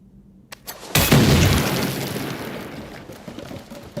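A single loud explosion in Assassin's Creed Shadows bursts after a short quiet lead-in with small clicks, then a long rumbling decay fades over several seconds.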